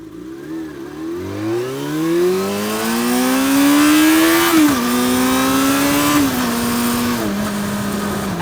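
A Yamaha FZ6 motorcycle engine with a 14,000 RPM redline revs up in a long rising wail, holds near the top, then steps down through a couple of lower plateaus, loud and close with no talking.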